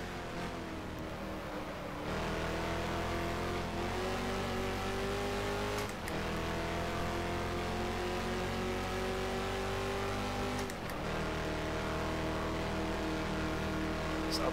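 Lola T70 race car engine roaring in the rFactor racing game at the Solitude circuit, a loud, steady drone whose pitch climbs, breaks at two shifts, then climbs again, with no talk over it.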